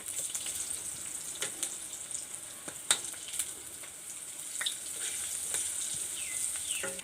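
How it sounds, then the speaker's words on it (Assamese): Pitha frying in hot oil gives a steady, close sizzle with scattered crackles and pops across the whole stretch, and no one speaks. "পিঠাকেইটা ৰঙচুৱা হোৱালৈকে এনেকৈ ভাজি ল'লোঁ"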